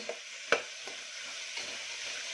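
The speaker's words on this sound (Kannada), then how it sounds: "ಸ್ವಲ್ಪ ಒಂದು ಕಾಲು ಸ್ಪೂನಷ್ಟು ಖಾರದ ಪುಡಿ ಹಾಕ್ತಾಯಿದ್ದೀನಿ ಅಷ್ಟೇ ಹಾಕಿ ಹಾಕಿ ಸ್ವಲ್ಪ ಚೆನ್ನಾಗಿ ಫ್ರೈ ಆಗಲಿ ಕಾಳು" Chickpeas frying with a quarter spoon of chili powder for a masala sambar give a soft steady sizzle, punctuated by a sharp ladle tap and a few lighter scraping strokes.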